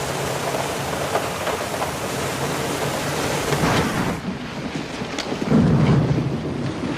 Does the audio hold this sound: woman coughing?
no